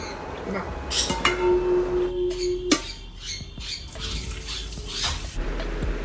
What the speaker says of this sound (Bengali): পাবদা মাছটা এখন আমি ধুয়ে নিচ্ছি ভালো করে